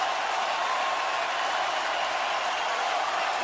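Steady, continuous roar of a large stadium crowd cheering at a college football bowl game between Iowa and LSU, broad and unbroken throughout with no distinct voices standing out.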